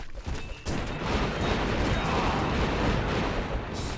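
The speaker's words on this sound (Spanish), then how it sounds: "Se ha muerto el héroe con la explosión de los hongos" Mushroom explosion in the tower defense video game Kingdom Rush Origins, a sudden loud blast followed by a dense, sustained rumbling crash of battle noise with no voices.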